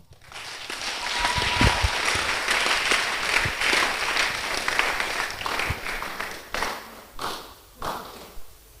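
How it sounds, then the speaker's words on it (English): Audience at a conference hall applauding, a dense wash of clapping that swells early, holds steady, then thins into scattered final claps with a few thumps. "Clap for Anna Half."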